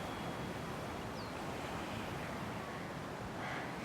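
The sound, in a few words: ocean waves on Kauai shore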